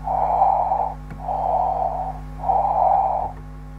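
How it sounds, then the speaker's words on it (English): Astronaut breathing inside a spacesuit during an Apollo moonwalk in the Orbiter space flight simulator game: three long, muffled breaths close to the ear, evenly spaced over a steady low hum, with no talk. "I like it when he keeps like breathing now, it's a bit annoying."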